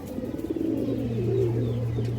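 A Kaldam high-flyer female pigeon coos close by in a rolling, repeated burble over a steady low hum, with no voices.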